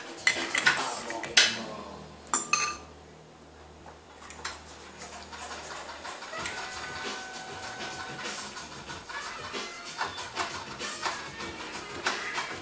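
A bar spoon stirring a Godfather cocktail with amaretto: a few sharp metallic clinks early on, then a soft, steady hiss of liquid movement.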